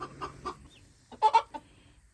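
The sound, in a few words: hens clucking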